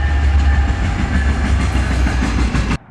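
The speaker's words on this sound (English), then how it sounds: "Another train." A train rumbles past nearby, a loud, heavy, continuous roar with deep low-end and steady rolling clatter that cuts off sharply near the end.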